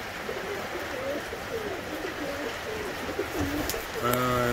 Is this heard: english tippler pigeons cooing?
yes